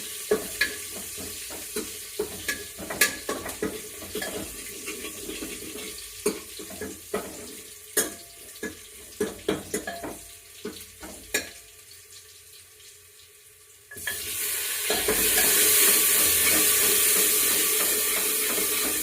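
Tomatoes frying in a pan as they are stirred, heard as a run of sharp scraping clicks over a soft sizzle, then a loud, steady hiss of frying that swells up near the end.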